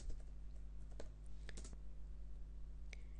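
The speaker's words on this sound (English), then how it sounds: "typing in whatever you want to add" Light typing on a computer keyboard, with sparse, irregular key clicks close by over a steady low hum and no talking.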